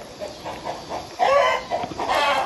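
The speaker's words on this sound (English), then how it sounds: "Got some chicken ruckus going on over there. They're so noisy." A flock of chickens clucks and squawks noisily nearby, with short repeated calls rising into a louder, agitated burst midway, with no voices.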